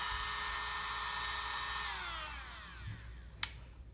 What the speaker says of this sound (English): you just have to turn on the machine all the way to the highest level, and then you'll see that the drill will start turning